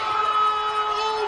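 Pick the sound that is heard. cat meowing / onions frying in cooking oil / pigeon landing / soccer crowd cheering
soccer crowd cheering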